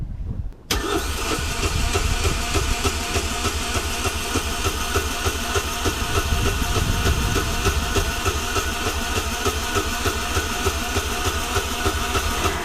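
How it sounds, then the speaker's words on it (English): A sailboat's engine runs steadily while fuel is pumped through the lines, a loud, continuous droning rumble that starts abruptly and holds for over ten seconds with no talking. "I'm just pumping fuel around the lines now."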